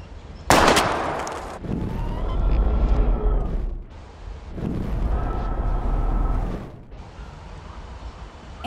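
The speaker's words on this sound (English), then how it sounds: "We're gonna shoot all these bottles without wasting a single bullet." Gunshots in Life Is Strange Remastered as bottles are shot at a junkyard target range: a sharp loud report followed by sustained rumbling tails, with another burst of heavy noise midway, no talk over it.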